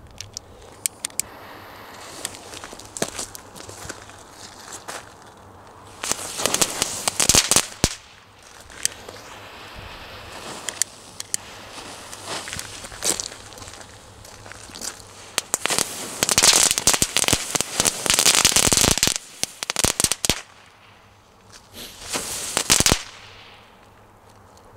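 A Crazy Kraut firework lit with a fire sword, a giant Bengal flare, goes off outdoors in long bursts of loud crackling and popping, pausing between volleys and ending abruptly, with no talk.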